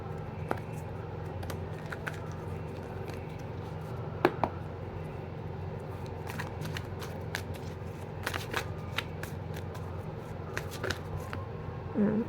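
Tarot cards from a second deck being shuffled and handled, soft papery riffles and taps at close range, quiet and intermittent over a low steady room hum.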